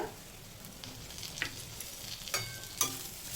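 Grated ginger, turmeric and slit green chillies fry in a little oil, a quiet steady sizzle punctuated by a few light stirring clicks against the pan, with no voices.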